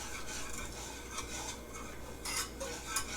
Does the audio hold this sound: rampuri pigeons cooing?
no